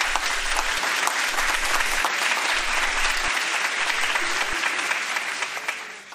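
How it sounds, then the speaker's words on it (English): Steady, dense applause from an audience at a school play fills the room, holding level for several seconds before tapering off at the end. "Give them a round of applause."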